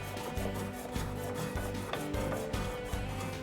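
Hand rasping or sanding of a wooden chair during fine finishing, a close, steady scraping with rhythmic strokes roughly every half second and no voices.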